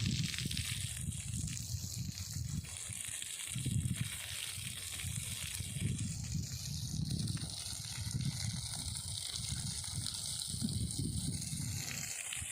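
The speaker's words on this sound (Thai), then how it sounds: "น้ำไหลลงรู" Water rushes and gurgles steadily as it flows down into a deep hole, a continuous close flow with a low churning rumble and no talking.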